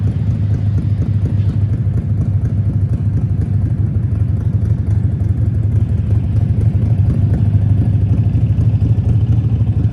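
A motorcycle passes on a busy Midtown Manhattan street, a steady low engine rumble blending into dense city traffic noise, loud and continuous with no distinct approach or fade.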